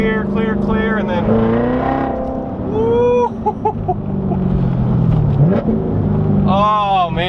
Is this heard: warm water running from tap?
no